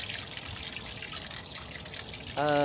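Water drains from a camper's gray tank, a steady close trickling and splashing that runs continuously, joined near the end by a louder tonal sound.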